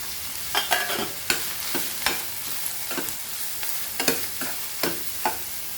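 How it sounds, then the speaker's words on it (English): Onion frying in a pan with curry leaves and chili, a steady close sizzle broken by repeated scraping stirs of a spatula, about a dozen strokes at an uneven rhythm, with no one talking. "So fry this onion nicely till it becomes soft."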